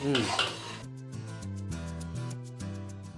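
Utensils scrape and clink against a pot as gram flour is stirred with ghee in a large batch, about 3 kg of ghee, steady rubbing strokes alone after a brief louder start, no talk.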